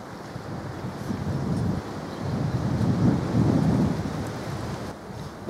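Outdoor wind at a fishing spot, a steady broadband rumble with gusty swells and microphone buffeting throughout, loudest mid-clip, no talking.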